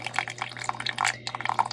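Water trickles and splashes into a bowl of bread dough mix made with sourdough starter, a quick run of small drips and gurgles close by over a low steady hum, with no talking.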